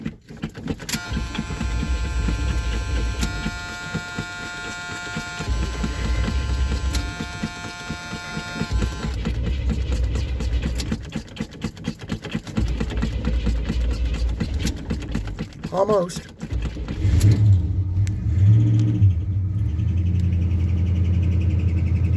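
A 1978 GMC C15 truck cranks with a whirring starter, catches and revs, then settles into a rough idle with brief squeaky belt chirps; a voice speaks briefly over it.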